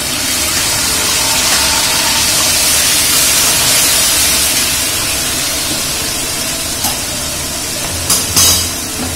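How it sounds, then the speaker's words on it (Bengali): Onion paste dropped into hot oil after frying paneer for palak paneer, giving a steady, loud broadband sizzle and hiss that holds throughout, with a few small pops near the end. "এবার তেলটার মধ্যে আমি পেঁয়াজ বাটা দেব"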